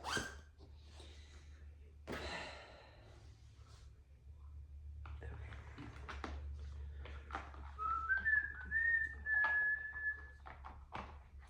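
A person whistles a short melodic tune at a crafting table while winding embroidery floss onto bobbins, the whistling coming in the second half over faint handling thumps and room noise.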